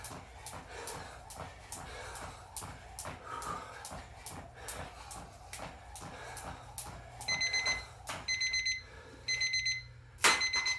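A workout timer beeps in regular rapid pulses during a jump rope PE session, then sounds its alarm in louder bursts near the end over faint room noise.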